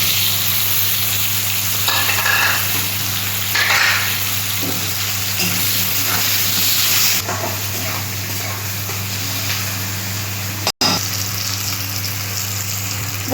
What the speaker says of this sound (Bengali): ফোড়নটা ভাজা ভাজা হয়ে গেছে, আমি এই পেঁয়াজগুলো দিয়ে দিচ্ছি।